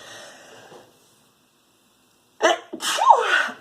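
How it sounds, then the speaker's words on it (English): A single loud, close sneeze bursts out after a moment of silence, with a sharp intake of breath just before it. "I have to sneeze."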